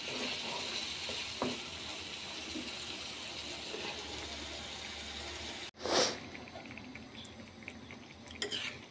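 Potato bhaji sizzles in a pan, a steady soft frying hiss with a brief stir or clatter partway through, then continued gentle bubbling.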